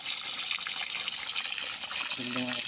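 Steady rushing of spring water flowing out of the ground beside a river fills the clip, a bright continuous gush close by, with a voice briefly starting at the end.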